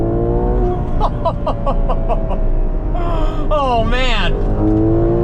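A Ferrari V12 engine rumbles and revs loudly, its pitch sweeping up and down, while a person gasps and speaks briefly over it.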